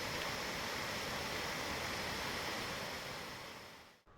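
Rushing water from Phamrong waterfall in Sikkim on the Goecha La trek, a clear, cold mountain cascade split into two streams. A steady, loud broadband roar fills the whole stretch without a break, then drops off abruptly at the very end.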